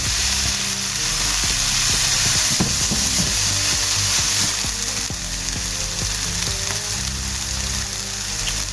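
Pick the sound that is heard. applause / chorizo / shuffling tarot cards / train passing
chorizo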